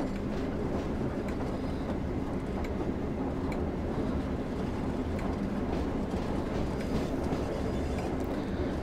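Train running on the Northern Trans-Pennine line in Train Sim World 4, a steady, continuous low rumble of rolling wheels and motor throughout, constant and close with no voices.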